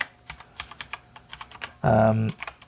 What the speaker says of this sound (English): I'm literally just typing in random values here.